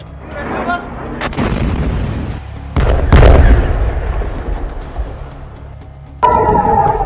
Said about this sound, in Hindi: इजराइल के डिमोना शहर पर मिसाइलों की बौछार।